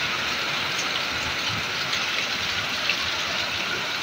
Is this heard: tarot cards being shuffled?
no